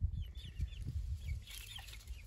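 Several young Steinpiperl chickens cluck and chirp close by in a hen house, with soft low clucks repeating quickly and a few higher peeps joining in.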